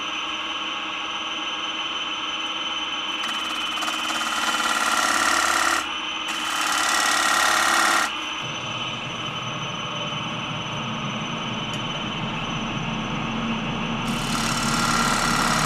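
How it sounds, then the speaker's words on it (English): A faint, steady high-pitched whine from the pump of a Trend Air Shield powered respirator runs continuously beneath louder broadband machine noise while turning a cedar bowl. "That faint high-pitched whine in the background is the pump in my Trend air shield."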